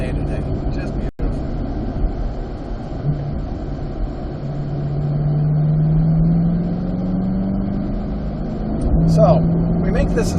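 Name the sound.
car driving parade laps at Road Atlanta race track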